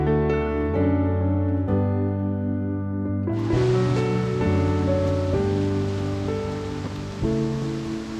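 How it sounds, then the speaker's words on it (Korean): A small waterfall in the Hansin Valley of Jirisan's mountains pours steadily, a continuous loud rushing of water that fills the air without pause. "작은 폭포가 큰 소리를 내며 떨어지고"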